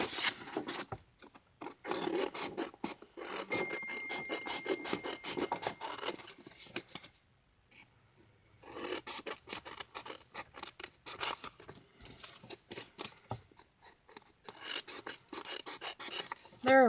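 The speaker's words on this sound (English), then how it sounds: "And this I can just cut with a big scissor." Big scissors snip and scrape through craft material in a series of close, irregular cuts and rustles, fairly quiet, with a short pause partway through and brief soft talk near the end.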